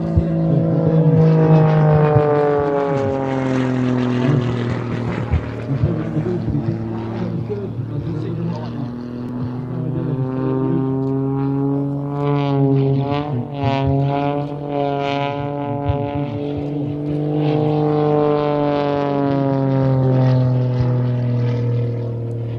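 A 300-horsepower aerobatic propeller plane flies rolls and hovers, its engine a loud droning roar whose pitch rises and falls with the manoeuvres, with someone talking over it throughout.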